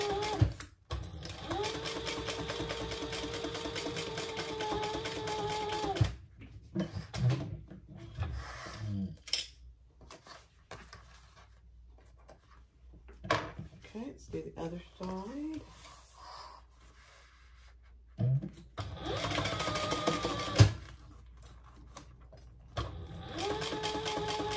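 A sewing machine runs in steady bursts, stitching a quarter inch seam for a petit four fabric basket, with pauses between runs and a voice talking at times in the gaps.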